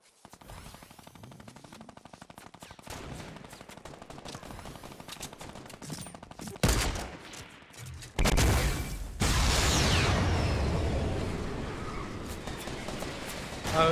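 Rapid automatic gunfire from the video game Fortnite, with dense repeated shots rattling steadily, then louder heavier blasts and a sustained roaring burst later on, and no one talking over it.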